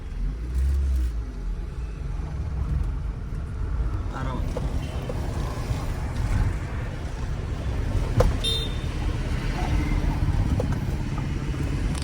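Car engine rumbling steadily from inside during a driving lesson, a low continuous drone with occasional revving, with people talking over it throughout.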